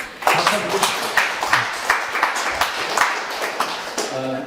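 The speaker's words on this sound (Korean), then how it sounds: "박수 한번 보내주세요." Lecture audience applauding after an art critic's talk, a dense run of claps at moderate volume lasting several seconds with distinct clap peaks throughout.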